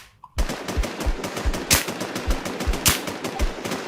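Rapid automatic gunfire from the online shooter game Infestation, a steady burst of close, loud shots with a few heavier cracks standing out, running continuously after a brief quiet start.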